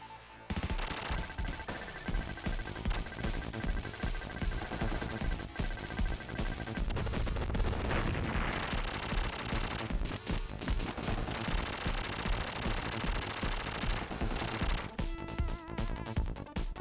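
Dense, continuous gunfire from player weapons in Contra Hard Corps, rapid shots layered over game music and explosions, loud and sustained with a brief lull near the end.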